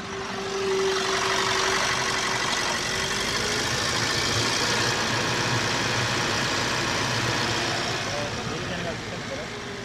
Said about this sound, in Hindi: तो कुछ इंजन स्टार्ट हो चुका है ऐसा